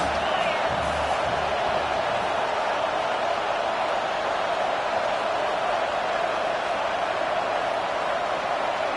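A college football stadium crowd, at a Michigan versus Missouri game, roars steadily on a third down, forming a dense, even wash of distant cheering with faint voices mixed in.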